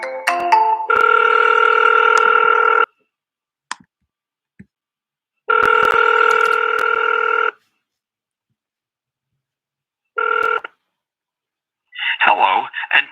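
Outgoing phone call ringing back in long repeated bursts, each a steady electronic ring tone lasting around two seconds, separated by silent gaps, followed by a brief shorter burst and then the start of a recorded voice greeting.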